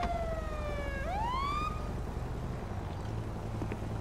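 A police car siren in GTA 5 wails loudly, its tone falling and then sweeping sharply back up as the vehicle arrives, over a steady low engine rumble.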